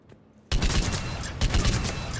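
Argus rifle in a Shepard video game firing a rapid, loud volley after a brief quiet lead-in, with a second burst of close, crackling shots near the end.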